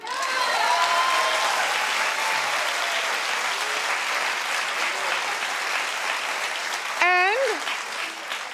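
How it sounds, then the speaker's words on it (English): A talk-show studio audience claps and cheers in a loud, sustained wash of applause that fills the whole stretch, with a voice briefly rising over it near the end. "Clap if you're with me."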